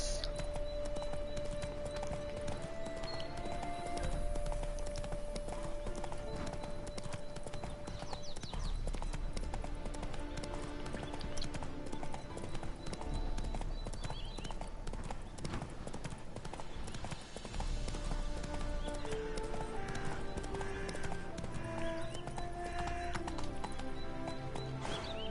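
Clip-clop of Roach, Geralt's horse in The Witcher, galloping steadily for the whole stretch, hooves drumming in a fast rhythm over a continuous musical game soundtrack with no talk.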